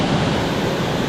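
Heavy water pours loudly over a waterfall on a wild brown trout stream in Bethlehem, Pennsylvania, a dense, steady roar close by with no talking.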